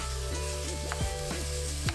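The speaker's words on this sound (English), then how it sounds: "go ahead and add your ground beef, and start breaking it down" Ground beef sizzles steadily in a hot pan for potato and beef dishes, with repeated scraping and stirring strokes as a utensil breaks the meat apart, close and fairly loud with no talking.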